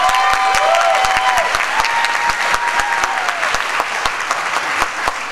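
Audience at a baccalaureate service applauds a choir, a loud, steady roar of clapping with distinct claps, while faint tonal sounds linger early on beneath it.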